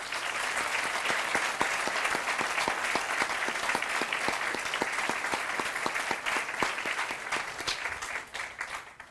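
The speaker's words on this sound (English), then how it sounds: "Will you all please join me in recognizing these groups and individuals with a round of applause." An audience at a college expansion groundbreaking ceremony claps in sustained, even applause, dense and steady before tapering off at the end.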